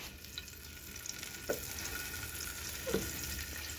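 Eggplant slices fry in hot oil with a steady, quiet sizzle that fills the whole stretch, broken by two soft knocks near the middle and end, with no speech.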